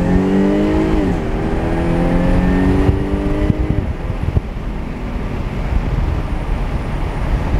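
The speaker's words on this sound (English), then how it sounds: "This is a supercharged 3-liter engine from Jag. It's a 3-liter V6." A Jaguar F-Type with a supercharged 3-liter V6, driven in sport mode with manual shifting, revs loudly close by, then its rising engine tones drop away into a steady rushing road and wind roar.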